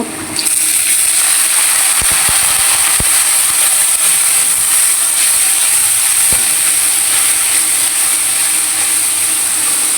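Water is poured into a hot pan after frying fish, setting off a sudden, loud, sustained steam hiss that starts almost at once and holds steady, with a few faint clicks underneath.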